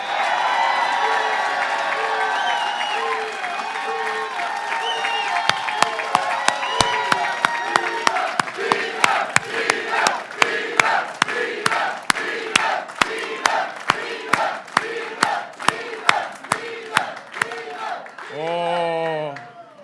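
A rally crowd at the Hotel & Motel Trades Council cheers and shouts, then breaks into sharp rhythmic clapping in unison that goes on for over ten seconds, with voices raised throughout and a shout rising at the end.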